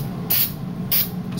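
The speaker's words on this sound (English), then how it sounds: "spray a little bit right inside." Two short bursts of solvent spray hiss into the inside of an AR-15 upper receiver during cleaning, each about a quarter second long, close and loud, with no talk.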